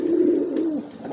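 A pigeon gives a low, throaty coo inside a coop, one drawn-out rolling call close by, alone without any talk.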